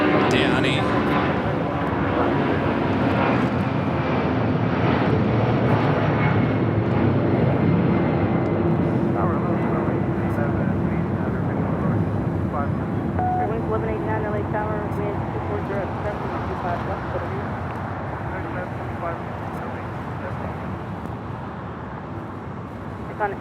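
A China Airlines airliner at Los Angeles LAX, a loud sustained jet roar that stays steady and slowly eases off over about twenty seconds, with voices talking over it.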